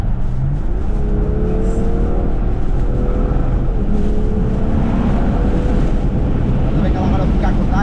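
A stage 1 tuned BMW 550d xDrive with a worn turbo revs loudly and steadily as the automatic gearbox shifts, with rising and falling engine tones close up and someone talking over it.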